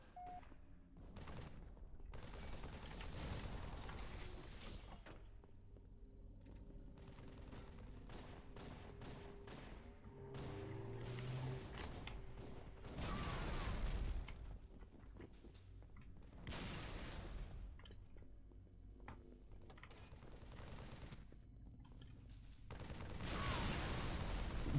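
In the Halo video game, gunfire crackles in repeated bursts and heavy booms across the whole stretch, with rapid automatic volleys and louder blasts rising and falling, no talk over it.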